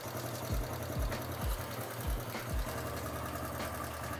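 A Honda CT90 Trail 90 motorcycle engine idling nearby during cam chain tension adjustment, a quiet steady putter with a low thudding pulse about every half second for the first few seconds, then smoothing out.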